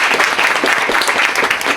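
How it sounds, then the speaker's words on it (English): Loud, dense applause from an audience for a panel of speakers, a continuous wash of many hands clapping close by, with no talking. "So I'd love you to give a huge round of applause for each of our panellists."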